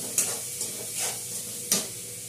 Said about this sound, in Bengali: কাঁটা পেঁয়াজগুলো দিয়ে দিলাম। এবার পেঁয়াজগুলো লাল লাল করে ভেজে নিব।